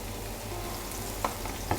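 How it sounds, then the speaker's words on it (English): Onions brown in oil for a traditional chicken pilau, a steady quiet sizzle of frying with a couple of soft clinks from stirring. "it's just to brown the onions"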